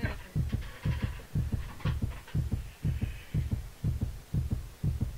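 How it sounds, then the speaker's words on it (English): Heartbeat effect at the sky limit in Just Cause 2, a steady, loud, deep double thump repeating about twice per second throughout, with a faint hum underneath and no speech. "All I hear is a heart beating."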